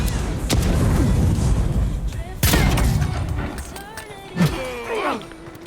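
Grenade blasts in the fantasy game Avowed, two loud sharp booms spaced a couple of seconds apart over rumbling combat noise, followed by shouting voices.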